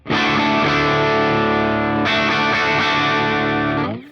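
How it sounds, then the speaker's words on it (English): Electric guitar played through a driven Vox AC30 amplifier, a sustained overdriven chord ringing loud and steady, freshly struck again about halfway through, then choked off near the end, with no voices. "This is an AC30 that's actually driven"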